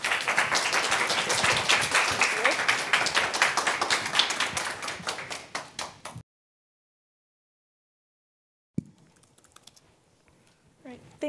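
A lecture audience welcomes the speaker with applause, a dense patter of many hands clapping that builds, holds and tapers off into silence, followed by faint room noise.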